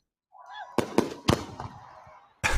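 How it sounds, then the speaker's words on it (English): Fireworks bursting outdoors beyond a parking lot, picked up by a distant microphone: a faint rising whistle, then three sharp pops in quick succession and another loud bang a moment later, with crackling trails between. "Are those your fireworks?"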